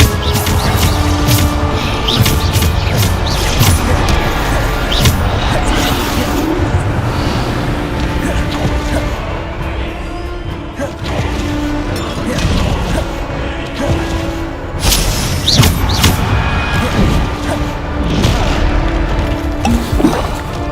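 Repeated Bombarda spell blasts in the video game Hogwarts Legacy: a continuous barrage of booming impacts, crashes and whooshes layered over game music and effects, loud and busy for about twenty seconds.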